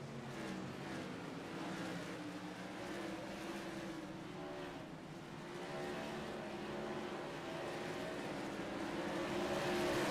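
Modified race cars at Southern National Speedway roar together in a close battle, a loud, sustained engine drone that swells and fades slightly as the pack passes, with no voices.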